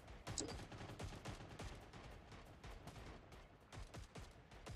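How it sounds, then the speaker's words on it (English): Rapid video-game gunfire, dense bursts of automatic shots and scattered single cracks rattling continuously through the whole stretch, at a moderate distance and fairly loud, with no talk over it. "Okay, I hear the gunshots."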